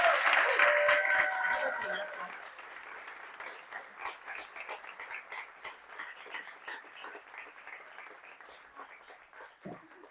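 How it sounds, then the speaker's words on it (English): Audience applause following a science talk at an Astronomy on Tap event in Atlanta, loudest at the start and then thinning into scattered claps and murmuring crowd noise that fades across the clip. "Let's give one more round of applause."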